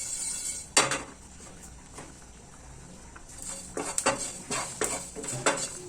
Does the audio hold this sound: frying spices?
yes